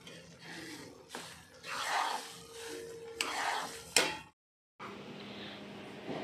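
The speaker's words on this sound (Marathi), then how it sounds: "थोडा वेळ अजून मी हे रवा छान असं भाजून घेते" Semolina roasting in a pan with dried fruit for sheera prasad, stirred with scraping, rustling strokes and a soft sizzle, close and moderately loud, with a brief silent gap near the end.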